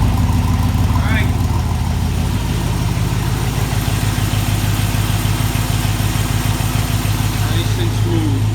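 A 1963 Chevrolet Corvette split-window coupe idles smoothly and steadily up close, a loud, even engine rumble running throughout with a brief voice near the start.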